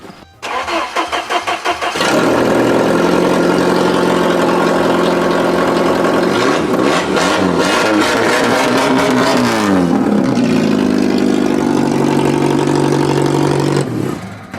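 A Jeep engine fitted with a small Mini Cooper muffler cranks and starts, then runs loud and raspy, revving up in the middle before settling back to a rough idle.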